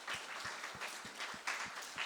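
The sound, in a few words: audience applause of thanks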